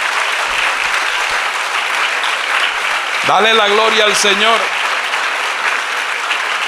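A church congregation applauds at a sermon, a sustained roar of clapping from many hands, while a voice speaks over the middle of it.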